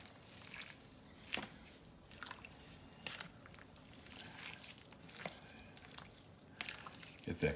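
Sausage and white bean soup is stirred in a pot, giving soft, wet squelches and gentle sloshes at low volume, spaced out over several seconds.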